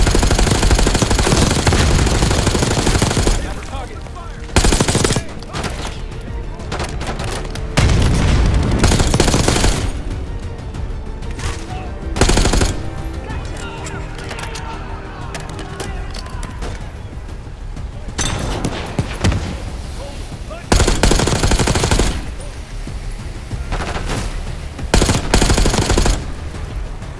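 Intense Call of Duty: Black Ops 6 campaign combat: loud, sustained bursts of automatic gunfire rattle in long stretches, broken by short pauses, heavy impacts and booms throughout.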